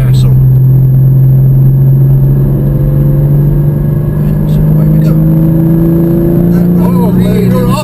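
A Porsche Cayman GT4 engine pulls hard on the Nürburgring, its tone climbing steadily as it accelerates, loud and close from inside the car, with talk over the engine.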